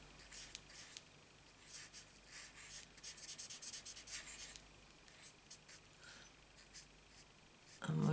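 A marker in a light Daffodil Delight yellow colours a stamped flower, giving soft, steady scratchy rubbing strokes on paper, quiet and close, with a sharper knock near the end.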